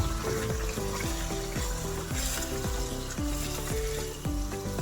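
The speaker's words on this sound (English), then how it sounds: "I'll leave to fry" Food sizzles and fries steadily in a pan with a blended hot pepper mix, a dense crackling hiss, close and continuous.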